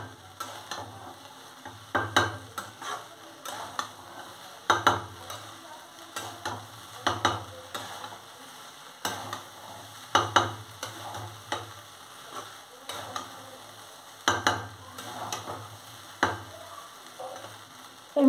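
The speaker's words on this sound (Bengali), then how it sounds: "এইভাবে মশলার সঙ্গে এগুলো ভালো করে কিছুক্ষণ নাড়াচাড়া করতে হবে।" A spoon stirs lemon rice with spices in a frying pan, giving rhythmic scraping strokes over a soft, steady sizzle, with taps against the pan at regular intervals, close and fairly quiet.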